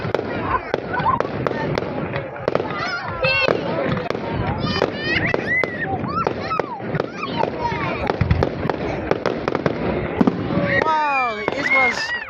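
Fireworks at a night show in Mildura crackle and boom continuously at moderate distance, with whistling streaks overhead, while excited children and adults talk and exclaim throughout.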